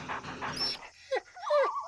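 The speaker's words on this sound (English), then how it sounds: "Pet the dog." A small dog in a Japanese GameCube game gives a few short, high whimpering yips while being petted, brief and close, with soft game ambience before.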